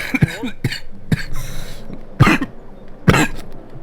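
Several sharp coughs spaced irregularly, close to the microphone, with a throat-clearing sound between bursts and quiet background in the gaps.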